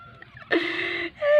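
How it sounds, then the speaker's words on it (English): A cat indoors gives one drawn-out meow, then a shorter rising call, close and clear against a quiet room. "Hey, you're really an amazing cat."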